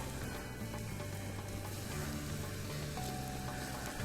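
Flour-dredged chicken pieces frying in hot oil, a dense steady sizzle and crackle close up, continuous and loud throughout with no talking.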